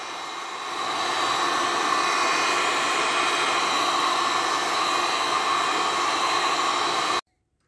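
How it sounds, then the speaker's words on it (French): A heat gun blows onto a DN 200/160/125 PVC pipe reducer during a leak repair. A steady, close hiss and roar swells over the first second, holds constant for several seconds, then cuts off abruptly. "je suis en train de chauffer petit à petit avec le décapeur thermique"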